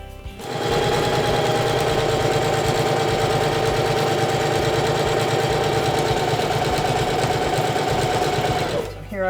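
A sewing machine runs steadily for about eight seconds, stitching along the edges of a fabric face covering, its needle mechanism producing a fast, loud, even chatter from start to finish.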